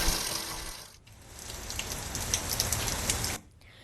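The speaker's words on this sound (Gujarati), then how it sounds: "છેલ્લા 1 કલાકથી ધીમી ધારે અહીંયા વરસાદ ચાલુ છે" Light, steady rain falls in Gir Somnath, Gujarat, after an hour of gentle drizzle, making a continuous close hiss of drops on surfaces that briefly dips twice before resuming.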